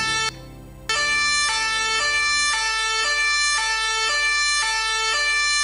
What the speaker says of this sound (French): lorsque nous entendons cette alerte, cette sirène